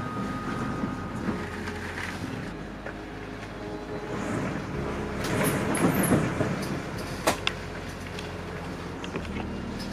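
Strong typhoon wind from Typhoon Hagibis roars steadily outside a home in Japan, a loud continuous rushing with rattling, mechanical-sounding surges and a few sharp clicks near the end, with no voices.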